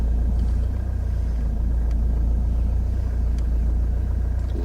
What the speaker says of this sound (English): just edge the car backwards using that clutch control